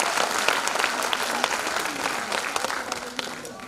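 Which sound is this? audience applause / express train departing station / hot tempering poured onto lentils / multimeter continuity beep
audience applause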